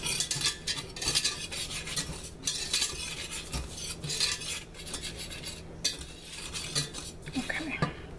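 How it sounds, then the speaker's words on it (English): A spoon stirs banana pudding ingredients in a pot over an unlit burner, scraping and clinking against the metal in uneven strokes with short pauses, close up and fairly quiet. "Now my heat is not on yet. I'm just stirring in my ingredients."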